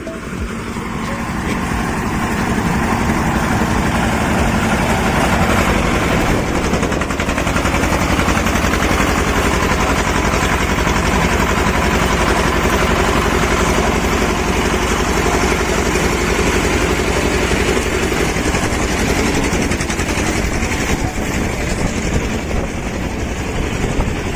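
A fishing boat engine runs steadily and loudly at close range, a continuous droning mechanical rumble with no speech over it, at a seaside beach near Chennai.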